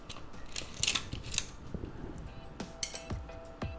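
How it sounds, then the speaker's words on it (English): A metal tape measure from a griddle accessory tool kit pulled out and handled, close metallic clicks, rattles and sliding scrapes coming in irregular bursts with no voices. "Let's get our tape measure."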